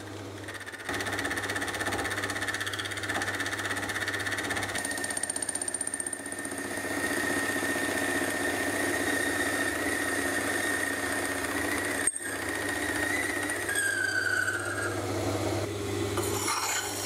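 A machine cutting metal with a carbide tool on a cheap rotary table, running at a high speed: a continuous, loud grinding rasp with a whining tone and a steady motor drone, briefly interrupted once near the end.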